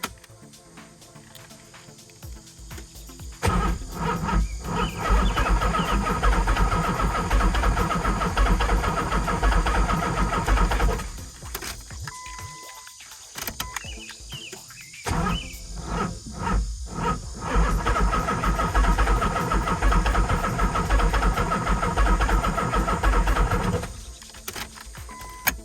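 Nissan S15 being converted from right-hand to left-hand drive cranking and firing up after its battery is connected, the engine catching into a loud rough idle, cutting out, then restarting and revving hard before shutting off.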